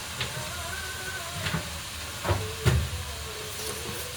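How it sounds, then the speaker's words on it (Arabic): Chopped onions sautéing in butter with a little salt in a pan for a béchamel pasta dish, a steady soft sizzling hiss with occasional louder crackles and stirring knocks. "انا بس هشوحها كده، مش هتتحمر يعني"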